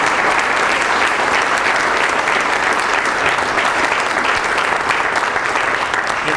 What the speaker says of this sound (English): I give our coaches a round of applause.